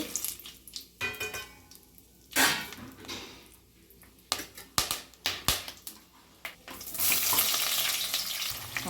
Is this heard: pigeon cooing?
no